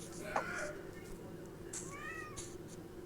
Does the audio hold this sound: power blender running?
no